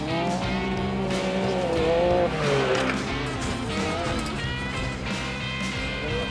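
A Can Am Baja Bug conversion accelerates hard out of a corner onto a straight on a race track, its engine roaring loud and steady, with rising and falling tones and some tire noise throughout.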